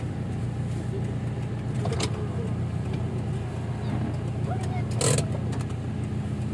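A broken-down car's engine idles with a steady low rumble that stays constant throughout, while faint voices and occasional small clanks sit in the background.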